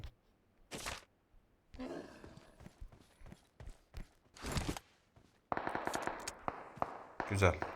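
Bursts of gunfire from a firefight in PUBG Mobile come in short clusters and single shots, some close and sharp, others fainter, with game noise in the gaps between them.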